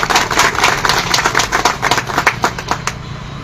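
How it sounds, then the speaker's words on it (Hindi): An audience applauds loudly to welcome a person who achieved a top-model car, dense sustained clapping close by that thins into scattered claps toward the end. "एक बार और जोरदार तालियों के साथ स्वागत करना चाहिए"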